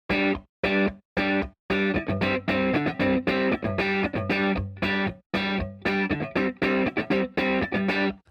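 Electric guitar run through distortion and delay effects with the reverb switched off, a close, loud run of chopped chords and notes with sharp stops and gaps between phrases.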